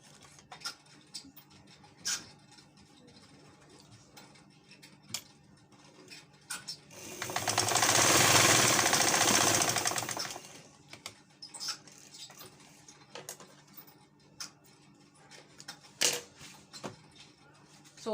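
A sewing machine stitches shut the turning opening on a fabric cap, a dense mechanical whirr of about three seconds in the middle, set among sparse clicks and small handling taps.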